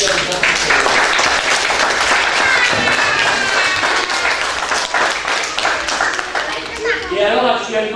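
A hall full of people at a judo club's 2019 Christmas gathering in Montauroux claps for a young cadette judoka, a loud continuous wash of hands with voices mixed in throughout.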